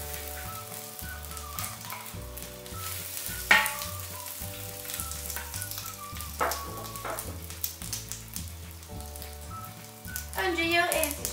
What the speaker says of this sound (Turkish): Önce yağı eriteceğim. Yağ eridikten sonra ciğerleri ekleyeceğim.